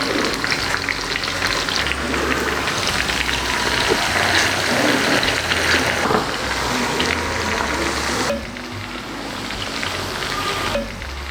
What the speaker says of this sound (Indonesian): Dan sebagian ini kita akan angkat untuk kita goreng.